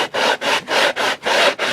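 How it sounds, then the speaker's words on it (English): Sandpaper on a flat sanding board rubs back and forth across a wooden instrument body, a steady rasping stroke repeated about every 0.4 seconds, close and fairly loud with no talking. "a sanding board, just a board with a piece of sandpaper attached to it, and you can use that and sand that back and"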